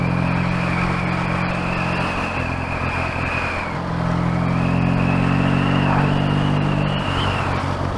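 A Triumph T140E motorcycle engine runs steadily and loudly close by, with a deep, even throb and slight shifts in pitch as the revs rise and settle.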